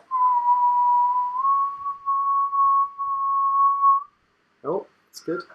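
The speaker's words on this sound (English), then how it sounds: "Okay, so my normal whistle is at a B." A person whistles one steady, clear note at B, held for about four seconds close to the listener, and then a voice briefly speaks.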